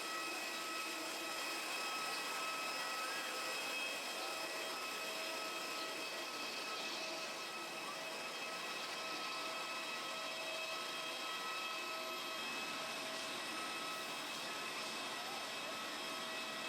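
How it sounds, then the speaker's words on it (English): A steady, muffled engine drone and rumble inside an airport apron bus carrying passengers out to a Thai AirAsia plane, constant and moderately loud with no clear voices. "The bus ride is almost as long as the flight."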